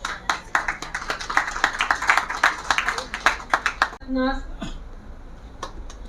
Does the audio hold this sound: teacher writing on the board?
no